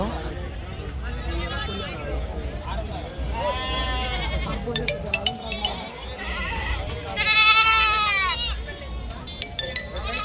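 Goats bleat repeatedly, several calls overlapping amid a busy crowd at a weekly goat and sheep market, with people talking throughout and occasional clinks nearby.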